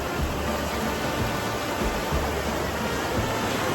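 Sea waves roll in at Bhatye beach in Ratnagiri, a loud continuous wash of surf with steady broadband roar and no clear breaks between swells.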